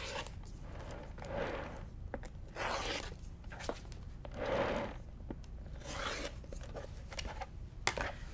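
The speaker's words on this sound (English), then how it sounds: "Cut around it with your rotary cutter." A rotary cutter slices through quilting fabric in several slow strokes, each a soft, close rolling scrape with faint ticking between passes, quiet and without talk.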